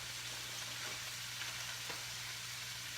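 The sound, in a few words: frozen chopped broccoli added to sizzling tofu stir fry skillet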